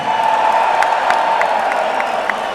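A capacity crowd at a sumo event in the Prudential Center cheers and applauds loudly, a sustained roar of voices with scattered whoops and claps.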